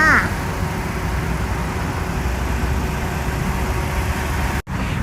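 A 2012 Toyota Corolla Altis 1.6 G dual VVT-i engine idles steadily with a low, even rumble, close by, with a faint voice at the very start.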